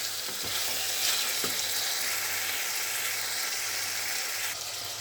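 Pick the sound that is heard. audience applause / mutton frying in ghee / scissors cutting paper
mutton frying in ghee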